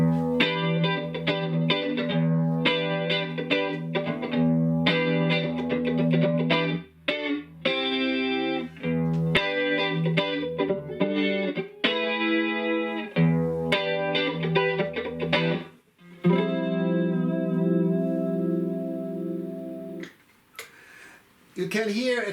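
A clean electric guitar lick played through a small Fender-type amp with a 6V6 power tube, Princeton-style, rings out loud and close as a run of picked notes and chords with brief pauses, heard alone without talk.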